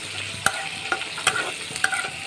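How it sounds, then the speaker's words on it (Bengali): Peanuts and a dried red chili fry in oil in a wok, with a steady sizzle and several sharp scraping stirs at irregular intervals. "তেল দিয়ে আমি এই যে বাদাম আর একটা শুকনো লঙ্কা ভেজে নিচ্ছি।"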